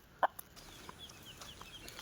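A single sharp cluck from a nearby hen, followed by a few faint, scattered chirps of her chicks over quiet background noise.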